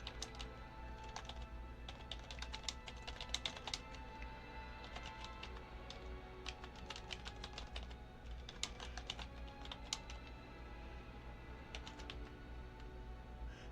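Quiet bursts of computer keyboard typing, entering a ChatGPT prompt about fixing an infographic, come in several uneven clusters of soft, quick clicks over a low steady hum, with no talking.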